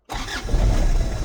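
Truck fitted with air conditioning cranks briefly and catches, its engine starting with a sudden rise into a loud, rough idle rumble heard close and alone.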